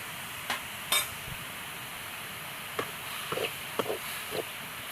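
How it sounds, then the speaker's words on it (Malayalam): Prawns and vegetables stirred in a frying pan, with a steady low sizzle and a few scattered scraping and clinking knocks of the spoon against the pan. "ഒന്ന് ഇളക്കി കൊടുക്കണം ഒന്ന് വഴങ്ങി വരട്ടെ"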